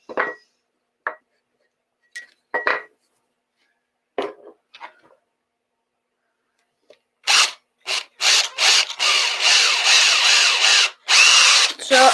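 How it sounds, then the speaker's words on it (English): A drill bores a pilot hole into a timber block for mounting on a woodturning screw chuck. A few brief taps and handling sounds come first, then the drill runs in steady loud bursts, stopping briefly and starting again. "So I'm just piloting the hole to wind this up onto the screw chuck."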